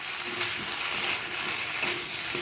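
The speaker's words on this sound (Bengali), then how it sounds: "এবার সবজিটাকে ভালো করে কষাবো, নাহলে মশলার একটা কাঁচা গন্ধ থেকে যাবে।" Vegetables and spices sauté in a pan with a steady, close sizzle and crackle, and faint scraping of stirring runs through the hiss. No voices.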